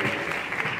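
A short burst of steady crowd applause from an audience at a digital media meetup talk in Bursa, continuous and moderately loud with no clear speech.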